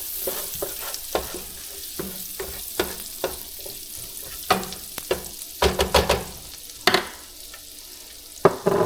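Garlic frying in a pan over medium heat, browning toward golden, sizzles steadily at moderate volume, broken by a series of sharp scraping and stirring strokes at an uneven rhythm; no talking.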